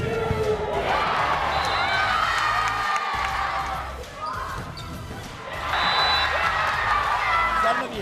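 A packed arena crowd at the Chaffetz Pavilion roars and cheers in two loud surges with a brief dip between. Basketball bounces and squeaking shoes run underneath, and voices shout over the din.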